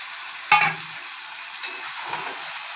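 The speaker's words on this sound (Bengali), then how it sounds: "এবারে আবার কষাবো।" Chicken curry with chopped tomato and a ground paste of ginger, green chilli and garlic being stirred in a pan: a sharp scrape at the start, a second stir a moment later and a steady sizzle underneath, close up.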